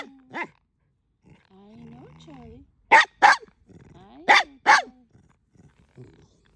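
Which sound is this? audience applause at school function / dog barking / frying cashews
dog barking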